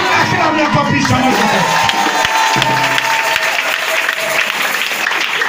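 Church congregation applauding, loud dense clapping from many hands filling the space continuously, with some voices mixed into the crowd.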